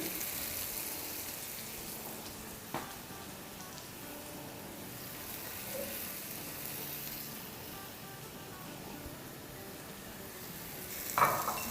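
A kebab patty and onions fry on a pan for a Dubai-style kebab paratha burger, giving a faint, continuous sizzle with a couple of soft knocks and a brief clatter near the end.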